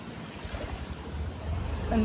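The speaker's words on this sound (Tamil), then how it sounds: "இப்பயும் பாருங்க தண்ணி வந்துட்டு தான் இருக்கு." Floodwater rushing steadily past, a broad continuous wash of moving water with a low rumbling undertone, growing slightly louder toward the end, with no talking.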